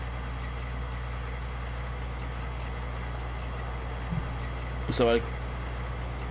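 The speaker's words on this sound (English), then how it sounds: "I'm hearing a lot of engine rev changes on this, which don't sound as clean." A tractor engine in Farming Simulator 19 drones steadily at a low idle throughout, with a brief spoken phrase and a short sharp noise near the end.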